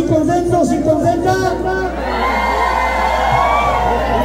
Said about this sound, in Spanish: A ver, un grito feliz y contento